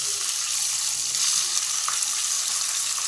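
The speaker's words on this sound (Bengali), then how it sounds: "এবার আমি মাছগুলো দিয়ে দেব অল্প অল্প করে" Small guru fish frying in hot oil, a loud, dense and steady crackling sizzle heard close up without any voices.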